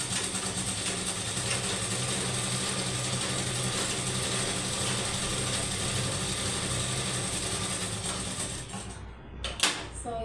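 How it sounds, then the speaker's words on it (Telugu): Sewing machine stitching a long seam on a Punjabi dress trouser, a steady, close mechanical whirring and rattling that runs nearly throughout before a brief stop and bump at the end. "ఇలా పొడుగ్గా కుట్టుకోవాల్సింది ఇది."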